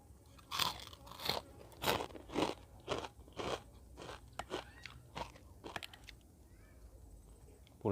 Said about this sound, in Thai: แคบหมู กรอบๆเนาะ